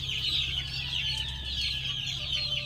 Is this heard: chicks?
yes